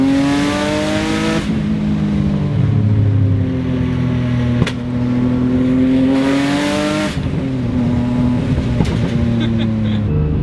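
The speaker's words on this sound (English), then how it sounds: "you get the turbo coming in, and then when you let off, you get the perfect purge noise" A 540-horsepower single-turbo Nissan 350Z revving hard, its engine tone rising and falling across several pulls, with a sharp blow-off purge and popping crackles when the throttle closes, loud and close.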